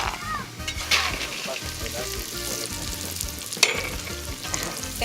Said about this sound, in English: she put in some oil into the clay pot and then she's just frying the almonds